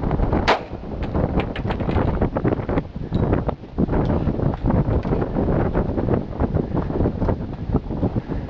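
A single sharp, loud .45 ACP 230-grain pistol shot cracks out early, followed by a long stretch of buffeting wind rumbling against the microphone.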